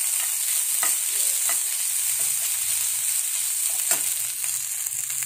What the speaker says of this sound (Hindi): चावल को फ्राई कर लिया है, इसी में डाल देंगे काला नमक और आमचूर पाउडर,